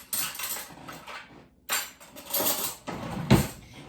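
A spoon mixing biscuit dough in a bowl, irregular clinks and scrapes against the bowl with short pauses between bursts and one sharper knock near the end.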